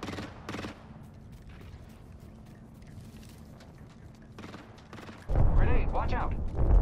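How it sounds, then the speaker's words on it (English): Enemy gunfire in a battle royale video game, appearing as a few sharp bursts early on under steady background noise, then a loud dense stretch near the end. "The enemies are shooting at me."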